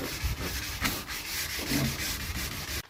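Hand sanding of primer on a truck body, a continuous scratchy rubbing in repeated strokes close up, ending abruptly.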